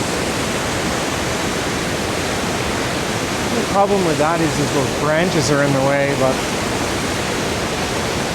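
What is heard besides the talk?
loud rushing whitewater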